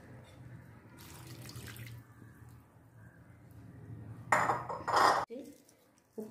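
Coconut milk poured into a pot of cooking ash gourd, a steady splashing trickle with a brief louder gush near the end, heard up close in a kitchen.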